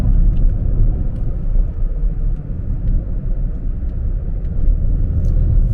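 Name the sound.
car driving uphill on a mountain road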